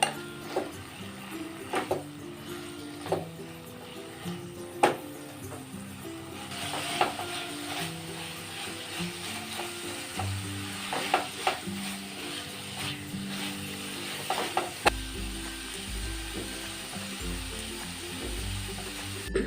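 Momo filling being stirred in a pan, a spoon scraping and clinking against metal in sporadic bursts over a low sizzle, with no talk.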